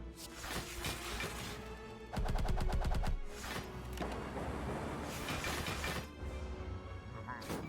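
Barrage card attack in Slay the Spire, a rapid burst of about ten mechanical gunfire-like hits in quick succession, loud, amid other game effects and a voice talking.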